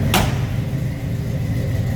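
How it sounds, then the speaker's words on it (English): A single sharp door slam of a 1969 Chevrolet C10 pickup near the start, with a steady low engine rumble continuing underneath before and after it. "door closes nicely."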